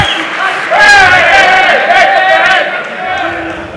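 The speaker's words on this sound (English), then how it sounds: "The crowd is cheering for Schoober to get back up." A crowd at an MMA fight between Frank Munoz and Dominic Schoober roars and cheers loudly and continuously, with raised voices in the mix and a commentator talking over it.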